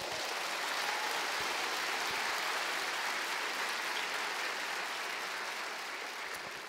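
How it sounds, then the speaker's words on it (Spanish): A church congregation applauds for Jesus during a Spanish-language sermon, dense sustained clapping that fills the room evenly throughout. "dale un aplauso a Jesús"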